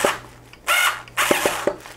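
Cordless power drill driving screws into a guitar neck while assembling a partscaster: two short whirring bursts close up, separated by brief pauses and small clicks of the bit.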